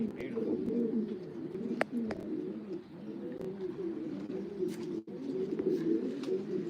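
Racing pigeons in a loft, birds being basketed for a race, with a steady low murmur of cooing throughout and a few sharp knocks and clicks over the top, no clear talk.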